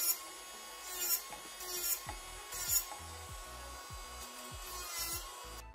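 A steady electric nail sander grinds and rasps against a fingernail, with recurring pulses and shifts in pitch as the motion changes, close up and without speech.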